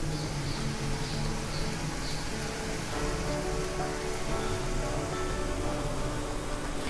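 Omapodi dough pressed into hot oil frying with a steady dense crackle and bubbling, close and continuous throughout, with no voices.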